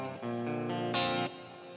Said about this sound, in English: That is a big reverb there.